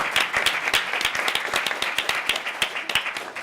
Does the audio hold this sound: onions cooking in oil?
no